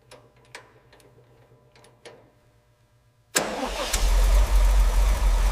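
A 1965 Sunbeam Tiger under restoration starts up after a few quiet clicks and ticks, then its engine catches with a sudden loud roar and settles into a rough, rumbling idle close by.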